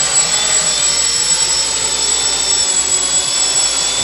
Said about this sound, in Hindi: तो ये जो है अपना ड्रोन आ चुका है यहाँ पे और ये नॉर्मल फ्लाइट मोड है।